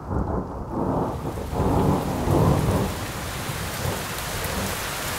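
Heavy rain pours steadily in a mountain area of Taiwan while deep thunder rumbles and rolls through the storm, loud at first and then easing into a constant wash of rainfall.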